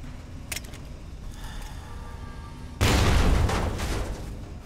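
A frag grenade detonates loudly midway through a Fallout: Tale of Two Wastelands firefight, a sudden heavy boom following quieter scattered clicks and pops, then rumbling as it decays.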